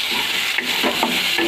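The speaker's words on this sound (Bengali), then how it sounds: "এতে আমি একটু টমেটো দিয়ে দিচ্ছি" Tomato hits a pan of frying onion, ginger and garlic paste, a loud continuous sizzle with several spoon scrapes and stirs, close up and without speech.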